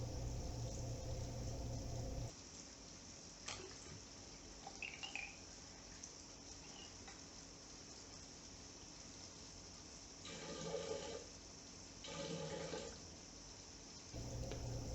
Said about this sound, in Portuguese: Eu filtro em Bichner a pressão reduzida, lavando com água para ajudar a transferência do sólido e remover o ácido.